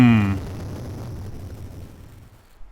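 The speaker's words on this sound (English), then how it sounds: "There is a mighty explosion behind you as your car bursts into flames." Digitized car explosion from the Atari ST game Uninvited: a loud burst that quickly falls to a long, noisy rumbling decay, heard alone.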